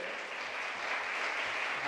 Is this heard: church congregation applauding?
yes